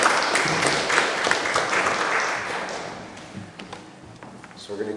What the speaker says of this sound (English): Can we have a warm round of applause for Allan?